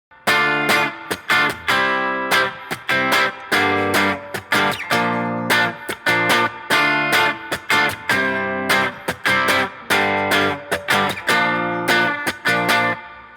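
A distorted electric guitar plays a chord progression, loud strummed chords in a steady repeating rhythm of sharp attacks with short sustain, alone with no talking.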